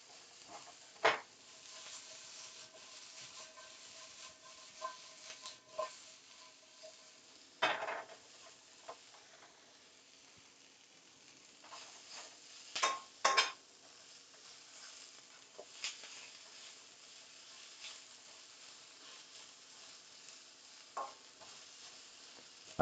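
Sliced ginger, bok choy stems, carrots and onions stir-fried with peppercorn pieces, a soft steady sizzle broken by occasional scrapes and clanks of a utensil against the pan, close and fairly quiet.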